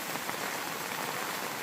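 Heavy rain pours down in a dense, steady hiss with no letup, close and loud throughout, with no voices.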